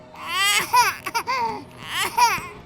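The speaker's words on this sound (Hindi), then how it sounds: "अचानक उसने दूर से एक बच्चे की रोने की आवाज सुनी।" A young child cries in wavering, high-pitched bursts, rising and falling with short breaks between wails, close and fairly loud.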